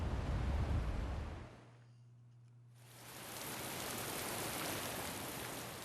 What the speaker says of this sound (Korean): 갑자기 비가 내리기 시작하더니 강풍까지 불기 시작했다.